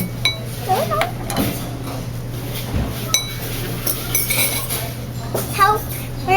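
A spoon and dishes clink at a restaurant table, scattered light taps and chinks near at hand amid a voice and background chatter.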